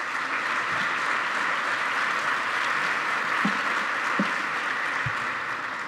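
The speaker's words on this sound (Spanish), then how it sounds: "Un aplauso para ella, por favor." Steady, dense audience applause fills a university commemoration ceremony hall, continuous and fairly loud throughout, with a few faint knocks in the background.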